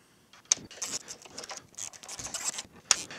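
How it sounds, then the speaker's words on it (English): Bolts being loosened and removed from the battery junction board of a Honda IMA hybrid high-voltage battery, giving a quiet run of metallic ratcheting and tool clicks with sharper clacks near the start and end. "So now we can take off the 4 bolts that hold the battery junction board to the battery."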